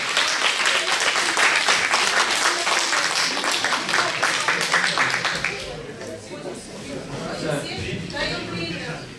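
Audience at a Tatarstan family intellectual-sports contest applauds loudly and steadily, a dense wash of clapping that drops back to a lighter patter after about five seconds.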